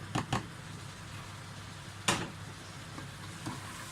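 Coconut chicken mixture hitting a hot pan, a soft continuous sizzle with a few sharp clatters of the spoon or pan, no voices.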